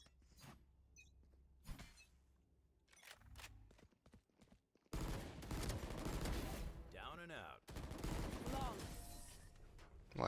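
Bursts of rapid video game gunfire in a 2v2 skirmish match, loud and dense volleys in the second half with sharper shots earlier, mixed with game effects and occasional talk.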